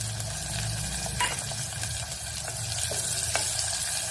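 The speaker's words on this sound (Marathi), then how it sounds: "आता आपल्याला ह्याच्यामध्ये कांदा टाकायचा आहे।" Onion goes into crushed garlic frying in a pan for a quick dhemsa (round gourd) vegetable dish, giving a steady close sizzle with a few light clinks and stirring scrapes and no talking.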